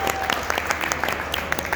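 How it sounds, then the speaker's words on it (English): Audience applause for volunteer Julie at a sideshow act during an oddities expo, a steady patter of many clapping hands throughout, moderately close and even in level. "Give Julie a round of applause."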